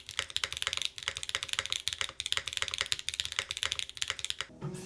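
Rapid typing on an EAU75 mechanical keyboard fitted with Obscura keycaps: crisp, close clacks in quick, uneven bursts with short pauses, ending in a heavier spacebar or key thud.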